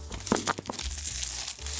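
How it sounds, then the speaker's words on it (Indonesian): Plastic wrapping torn and crinkled off a boxed gaming mouse during an unboxing, a few sharp crackling rips up close followed by steady rustling. "Buka dulu wrappingnya."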